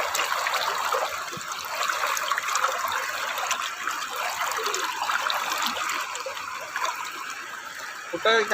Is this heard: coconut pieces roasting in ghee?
no